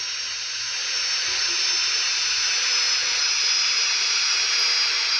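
An airplane in a video game roars with a steady, loud, hissing engine drone as it comes in to land in a field, with no talk.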